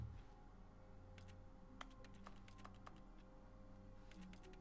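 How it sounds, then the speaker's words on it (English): Computer keyboard typing in The Stanley Parable: Ultra Deluxe, with rapid, irregular clicky keystrokes in quick bursts, fairly close and clear, heard alone with no talk over it. "it makes keyboard noises even if you're just like standing in the middle of"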